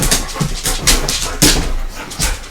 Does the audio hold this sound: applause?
no